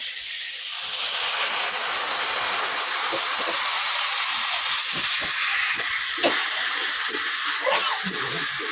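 A little water poured into a pan holding ginger, cumin and pepper paste, a loud broad hiss and rush of steam and bubbling that holds steady for several seconds, with a few soft clinks.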